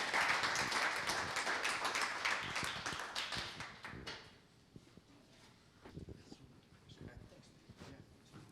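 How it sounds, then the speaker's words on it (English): At a marketing chapter event, an audience claps as speakers are welcomed onto the stage. Scattered, moderately loud clapping fades after a few seconds, followed by footsteps, thumps and faint murmuring voices in the room. "Let's give them a round of applause."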